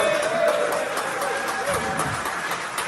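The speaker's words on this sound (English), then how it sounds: "take your ass up here and take the final applause" A crowd at a whisky distillery event applauds steadily for about three seconds, a dense, even wash of clapping with voices mixed into the noise.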